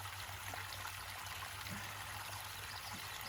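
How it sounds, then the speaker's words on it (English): Water dripping and trickling out from underneath a gold prospecting sluice outdoors, a steady low wash of running water with a constant hum beneath and no talking. "Got a lot of water dripping out underneath here."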